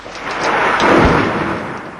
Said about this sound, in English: Thunder is a wake-up call.